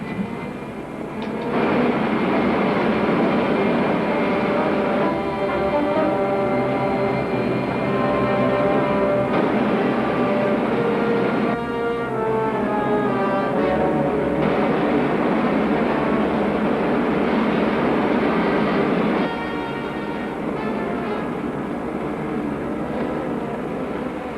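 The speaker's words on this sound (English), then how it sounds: "Fire main jet." A rocket ship's main jet fires in a 1950s sci-fi serial, a loud, steady roaring hiss with wavering whistling tones that holds for over twenty seconds before easing slightly.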